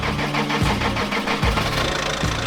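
An off-road truck engine cranks and catches after a rollover on wet rocky tracks, with rhythmic starter pulses giving way to a loud, rough running rumble close by.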